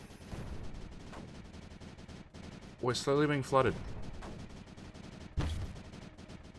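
Cannon and mortar fire in the strategy game Creeper World 4: repeated muffled booms and bursts under steady background game audio, with someone talking over part of the sequence.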